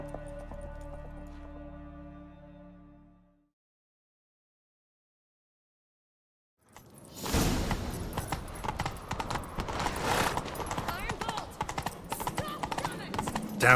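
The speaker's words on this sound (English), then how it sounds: "Grab a horse, we'll chase him down." In The Witcher 3: Wild Hunt, after a faded musical tone and a moment of silence, rapid horse hoofbeats pound in a galloping rhythm, with voices and movement noise layered over them.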